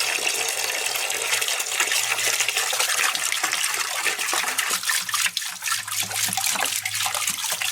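Vinegar gushes steadily into a large tub, filling it toward 3,000 pounds to soak a rusty part of an abandoned Tri 5 Chevy, a loud, continuous splashing pour with no talk.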